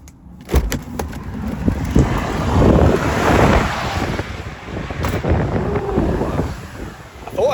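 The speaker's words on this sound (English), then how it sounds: "It's windy as well." Wind buffets the microphone in a roadside lay-by beside a UK HGV car transporter, a steady roaring rush with low rumbling gusts that swell mid-clip, and faint passing traffic underneath.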